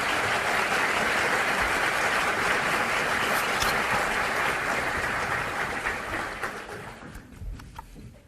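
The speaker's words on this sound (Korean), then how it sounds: "박수 한번 보내주십시오." An indoor audience at a Korean Justice Ministry inauguration ceremony gives sustained applause, dense and even at first, then thinning out and fading toward the end.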